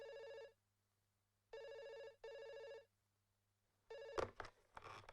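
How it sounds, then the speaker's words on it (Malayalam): A landline telephone bell rings in a Malayalam film scene, three bursts of ringing with pauses between them, fairly loud and close, followed by a quick clatter as the receiver is picked up. "ഫോൺ എടുക്ക്."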